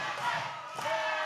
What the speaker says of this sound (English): the crowd at the Hot Point Davis Arena coming alive